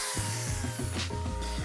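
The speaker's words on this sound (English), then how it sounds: "next up is the fun part, is to get these holes drilled at my marks 1 and 2" A power drill bores holes into a wall to mount a bracket for galvanised buckets, with a steady, close motor whine and repeated grinding pulses as the bit works through.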